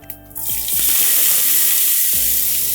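Ground coriander and cumin seeds hit hot oil along with chopped red onions and sizzle loudly, swelling into a steady, close fry with a few scraping stirs throughout.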